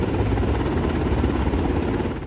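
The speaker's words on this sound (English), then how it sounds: "jolted out of bed by the sounds of military helicopters" A military assault helicopter passes low overhead, its heavy rotor thump and engine roar steady and loud throughout, with no break or fade.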